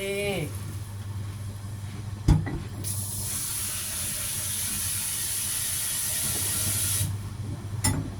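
Water is poured into a pot of Thai chicken and pickled bamboo shoot curry, giving a steady hissing, splashing fill that runs for several seconds, with a few clunks and a voice speaking.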